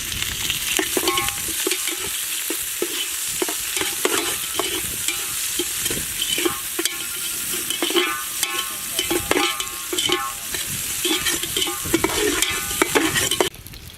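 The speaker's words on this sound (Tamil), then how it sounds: "இப்போ நம்ம அந்த கட் பண்ணி வச்ச பெரிய வெங்காயத்தை ஆட் பண்ண போகிறோம்." Chopped big onions sizzle and fry in hot oil while being stirred in a pan for a chicken gravy. A steady crackling hiss runs throughout, broken by frequent scraping stirs, close and fairly loud.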